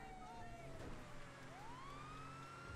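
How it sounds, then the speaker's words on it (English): Police car siren wailing in GTA 5, a steady rising and falling electronic tone heard close and continuous, with a faint voice briefly underneath. "Go ahead and kill your siren"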